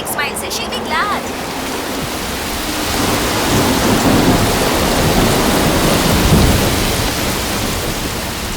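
Heavy rain pours in a thunderstorm, a dense, loud steady hiss with low rumbling swelling midway, and high-pitched voices briefly audible at the start.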